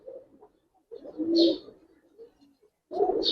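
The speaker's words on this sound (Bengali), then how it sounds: "শাওন ভাই, কবুতর দেখছেন?" Giribaz and coloured pigeons coo nearby in soft, throaty bursts separated by short pauses, with a brief higher chirp between calls.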